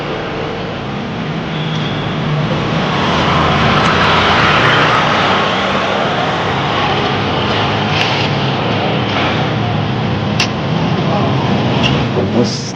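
A helicopter flies overhead, its broad engine and rotor roar swelling and holding steady for several seconds while people talk underneath.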